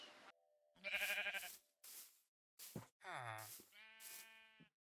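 Sheep in the Minecraft video game bleating several times in a row, clear harmonic calls spaced across a few seconds, loud and close with no talk.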